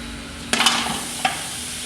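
One kilo of mutton hits a large, hot cooking pot, giving a sharp burst of sizzling and stirring that settles and then flares briefly again over a steady frying hiss, with no voices.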